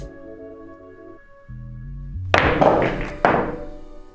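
A pool cue, held elevated, strikes the cue ball at medium speed with no spin, giving a crisp, close thunk and a sharp second knock as the ball connects, after a quiet stretch of low background hum.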